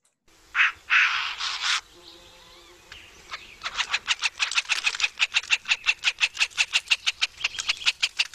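A woodpecker recording plays rapid, evenly spaced sharp calls in a long rhythmic series after a few louder introductory notes, fairly faint and alone, a Lake Tahoe bird.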